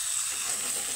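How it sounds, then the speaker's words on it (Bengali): Hot water poured into a pan of curry with taro and potato fried in spices, a loud steady hiss and sizzle filling the whole second with no one speaking. "তো এখন দিয়ে দিব আমি গরম জল।"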